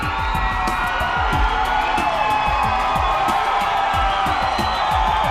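A fight-event crowd roars and cheers steadily throughout, with loud whoops and bellowing shouts rising over a dense, continuous wall of voices.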